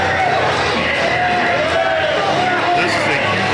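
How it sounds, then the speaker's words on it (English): Wrestling fans at an RPW deathmatch cheer for Judge Joe Dred after his win, a steady roar of crowd noise that runs throughout while a commentator talks over it. "Listen to that crowd showing their love and support for Joe Dred"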